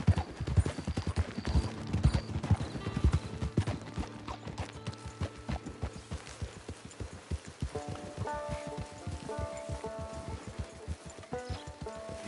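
Horse hooves clip-clop in Red Dead Online, a steady close rhythm of hoofbeats that carries on throughout at moderate loudness with no one speaking.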